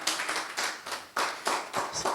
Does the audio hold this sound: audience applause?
yes